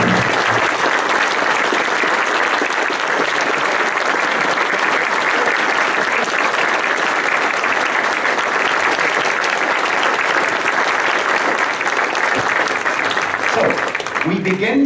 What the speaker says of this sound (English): May we ask you, the audience, to stand up and to give Robb a big applause